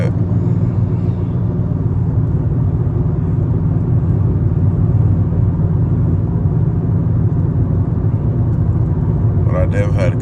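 Inside a Dodge Charger SRT8 cruising on a highway, a deep, steady engine and road rumble drones at a constant level throughout, with a brief scrape of cabin noise at the very end.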